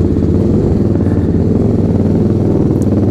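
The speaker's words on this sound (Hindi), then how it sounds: "यहाँ पे ना बाइक बहुत ज्यादा शोर मचाती है जब मैं अपने घर से निकलता हूँ" A TVS Apache RR310 motorcycle engine runs with a loud, close, steady throbbing rumble and a rapid pulsing beat, heard alone.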